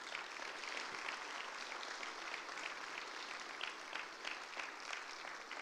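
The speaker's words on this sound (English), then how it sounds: "Let's give them a round of applause" Audience applause for the Burton Academy choir at a church worship service, a steady wash of many hands clapping at moderate level for several seconds with no talk over it.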